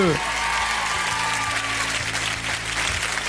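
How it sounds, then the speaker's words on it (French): Studio audience applauding on a French television singing game show, a steady dense wash of clapping from a crowd, with a voice talking over it. "vous pouvez les applaudir"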